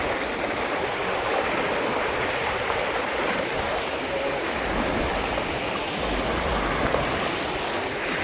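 River water in full flood rushes and churns steadily during a crossing, a continuous broad roar with no voices.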